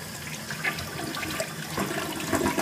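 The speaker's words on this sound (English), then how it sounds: "Let's go and flush it." A Kohler toilet in a hotel bathroom flushes with a loud, close rushing of water that stays steady throughout, with no talking.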